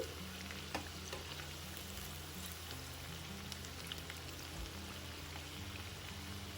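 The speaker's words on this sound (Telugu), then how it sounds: "2 వైపులా కూడా క్రిస్పీగా అయ్యే వరకు మనం వేయించుకోవాలి." Rice vadas deep frying in hot oil, a continuous dense sizzle and crackle with scattered pops, steady and fairly close, with no voices.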